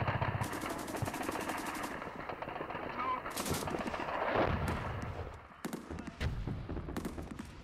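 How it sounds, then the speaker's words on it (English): Battle sounds of rapid gunfire mixed with heavy explosions, bursts of shots and booming blasts overlapping loudly and continuously before thinning into scattered single reports near the end. "we heard some shots ring out, a lot of shooting. We heard explosions going off."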